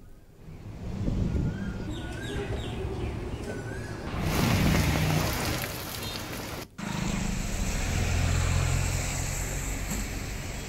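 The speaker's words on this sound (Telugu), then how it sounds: "ఉత్తరాంధ్ర జిల్లాలో భారీ వర్షాలు కురుస్తున్నాయి" Heavy rain falling across north coastal Andhra districts, a dense, steady hiss of rain with surges in intensity, a brief dropout partway, and faint bird chirps early on.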